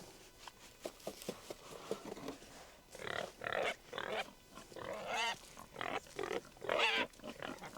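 Pigs grunting and oinking while a sow is moved into a pen on a farm, close by, with scattered short grunts that grow louder and more frequent in the second half.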